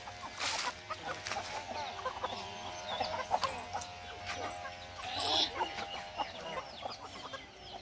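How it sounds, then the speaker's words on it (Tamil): Chickens cluck and murmur steadily close by while eating on a farm, with scattered pecking sounds and a constant low hum in the background. "கோழி சாப்பிட்ருக்குறாங்க."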